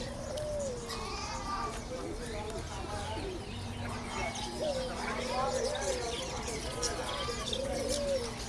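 Pigeons at an animal market in the desert coo softly and steadily, mixed with occasional chirps from other birds, while a person talks nearby.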